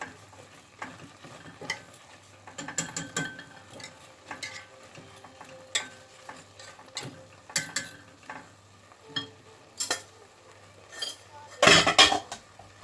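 Broccoli soup vegetables stirred in a metal pot with a spoon, giving scattered clinks and scrapes in irregular bursts, close and fairly quiet, with a louder clatter near the end.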